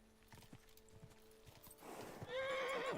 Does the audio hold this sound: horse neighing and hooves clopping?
yes